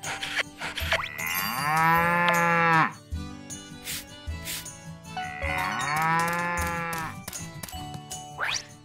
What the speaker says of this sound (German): Die Kuh melken.